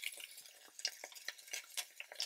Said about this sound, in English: just sauteing white onions or any onions makes the house smell so lovely